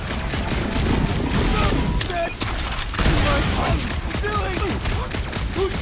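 Gunfight near a reactor core in Guardians of the Galaxy: rapid bursts of gunfire and mechanical clatter, dense and loud, with a sharp impact and voices shouting amid the shooting.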